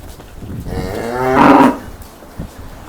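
A cow moos loudly nearby, one long drawn-out low call swelling in the middle, with faint outdoor background noise and no talking.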